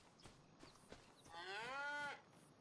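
Cattle moo in a farming video game: one long, loud, drawn-out moo rises and falls over a quiet background, with a few faint clicks before it.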